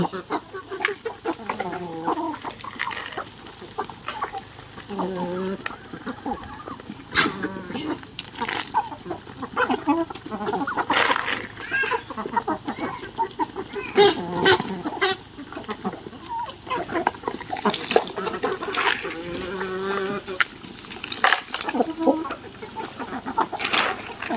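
Chickens cluck across a rural Thai farmyard at a steady, moderate level, with scattered calls from near and far over a constant background hum, while people talk intermittently nearby.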